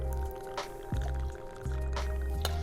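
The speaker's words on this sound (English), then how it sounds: "Now, what I just did is a free pour." Blanco tequila free-poured from a bottle into a small metal shaker tin at a bar, a close, gurgling trickle of liquid with brief pauses and faint clinks, no talking.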